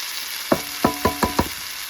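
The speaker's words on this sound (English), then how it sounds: "there's a good sizzle" Several short sizzling bursts, five quick crackling hits close by over a soft steady background hiss, like food hitting a hot pan.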